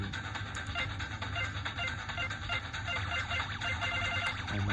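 Game music from Space Invaders Extreme playing loudly through a Nintendo DS Lite speaker, a dense, bright electronic soundtrack with a steady beat and tinny high-end running continuously throughout.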